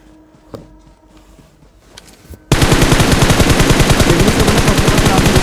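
Rapid automatic gunfire in a battle royale video game on the Livik map bursts in after a quiet stretch of faint in-game clicks and steps, a loud, fast, unbroken rattle of shots close up.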